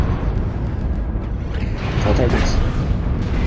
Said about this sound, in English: missiles are hitting you big time